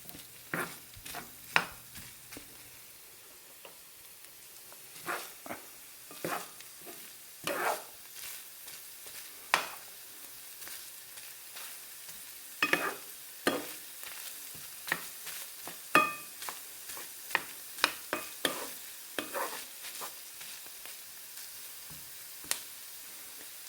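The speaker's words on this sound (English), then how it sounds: "let's just get these onions sweated just a teeny bit more" Onions sweat quietly in a pan for a sloppy joe sauce. A soft, constant sizzle sits under repeated clicks and scrapes of stirring at irregular intervals, with no talk.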